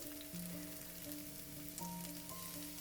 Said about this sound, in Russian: нарезали лук и отправляем его в сковородку уже с разогретым растительным маслом